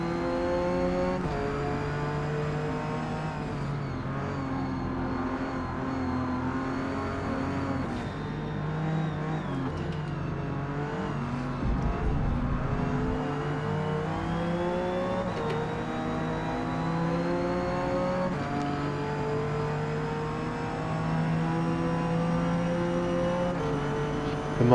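A 1982 Porsche 911 races at the Nürburgring, its engine droning and rising in pitch through the revs, with gear changes shifting the tone and a steady, close, continuous roar throughout.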